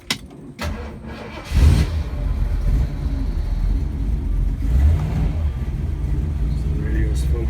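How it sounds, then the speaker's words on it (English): A 1948 Mercury coupe engine cranks and catches with a sharp burst, then settles into a steady, throaty idle rumble with light revs, close by, while people talk over it. "Start the car."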